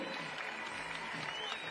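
A crowd at a lead climbing semi-final in Madrid applauds with steady, moderately faint clapping while a commentator talks over it.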